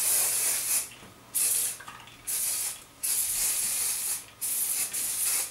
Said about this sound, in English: I'm just gonna do a bit of hairspray.